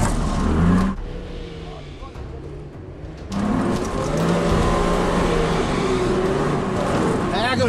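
A 4WD vehicle climbs a wet, rutted hill, engine roaring and revving hard, easing off briefly before surging again, loud and near, with voices talking over it.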